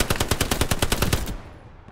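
A machine gun in the video game Hell Let Loose, during winter fighting on Elsenborn Ridge, fires a loud, rapid sustained burst of about a dozen rounds, then cuts off and leaves a brief fading echo.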